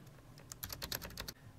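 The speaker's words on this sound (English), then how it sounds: "it just lets you type like you were typing on a normal keyboard" Quiet, close keystrokes on an AlphaSmart portable keyboard, a quick burst of about ten soft clicks in a row before the tapping stops.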